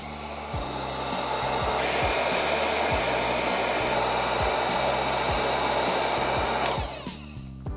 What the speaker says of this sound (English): let's start off with the heat gun